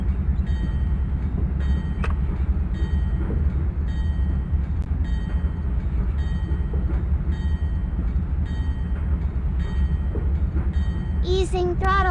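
A locomotive cab in a train simulator game runs at about 63 mph on flat track, giving a continuous low engine drone with faint rhythmic clicks. A short rising electronic tone sounds near the end.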